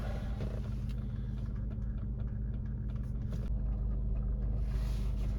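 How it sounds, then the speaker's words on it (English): A 2007 Cadillac DTS engine idles while warming up, giving a steady, close, continuous low rumble that holds even throughout with no talking. "let's close our door and let our car warm up"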